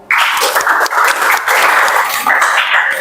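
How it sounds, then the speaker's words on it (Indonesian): A classroom group claps for a student team during a mechanical engineering teaching session, a loud, close burst of dense applause that starts abruptly and carries on steadily with small surges. "kita beri tepuk tangan dulu"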